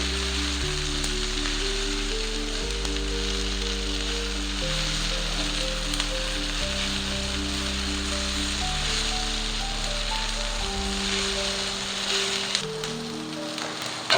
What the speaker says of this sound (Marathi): आता हे पण आपल्याला व्यवस्थित असं फ्राय करून घ्यायचंय